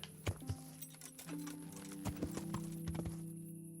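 Horse hooves clip-clop on the ground in the video game Kingdom Come: Deliverance, a series of distinct close hoof strikes in an uneven walking rhythm over low background tones, with no talking.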